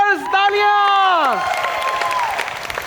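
Audience applause breaks out for a band on a TV talk show stage. A sustained sung note slides downward and fades, leaving steady, dense crowd clapping that carries on to the end.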